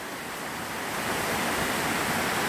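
Floodwater runs fast outdoors, a continuous broad rushing roar that swells slightly louder partway through, with no talk.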